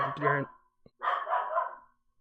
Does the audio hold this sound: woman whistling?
no